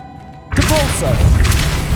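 A Depulso force spell strikes in Hogwarts Legacy, a sudden booming impact followed by a rumbling, crashing burst with whooshing effects, loud and close, mixed with a voice.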